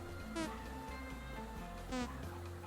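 Bees swarm around a beehive in the survival game Vintage Story, a steady low buzzing drone that holds throughout, with two brief brighter bursts of sound over it and no talking.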